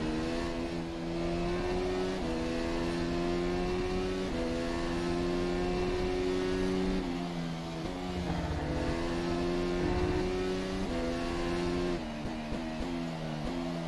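A Formula SimRacing FSR 2018 open-wheel car in rFactor 2 at Hockenheim screams through repeated gear changes, a loud high-revving engine note climbing and stepping down continuously, alone without talk.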